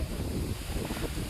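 Strong wind and rain sweeping through a large forest during an outdoor picnic cookout, a loud, steady rushing roar buffeting the microphone without a break, with no voices.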